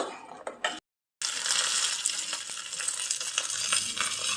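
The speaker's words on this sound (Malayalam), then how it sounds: "കടുക്, ഉലുവ, വറ്റൽമുളക്, കരിവേപ്പില ഇതെല്ലാം കൂടെ കടുക് വറുത്ത് കറിയിലേക്ക് ഇട്ടു." Mustard seeds, fenugreek, dried chillies and curry leaves frying in hot oil for a tempering, a steady loud sizzle and crackle after a brief silent gap, with faint stirring.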